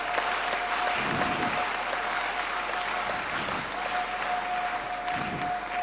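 A church congregation applauds during a deliverance service, a continuous wash of clapping at moderate level over a faint steady tone.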